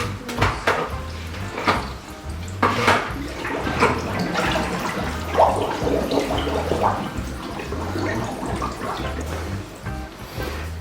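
Water gurgles and sloshes as an Aquael Hypermax 4500 BT canister aquarium filter is primed, with irregular splashing, a steady low pump throb and occasional handling knocks close by.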